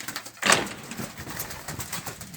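Birds cooing softly in an enclosure, with a short rustling burst near the start and steady low murmuring throughout.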